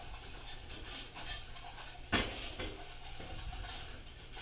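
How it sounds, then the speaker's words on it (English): A metal whisk scrapes and clinks against a pan while working a cooking roux near a simmer, giving steady close scraping with a sharper knock near the middle. "Very important that we get into the edges of the pan when we whisk"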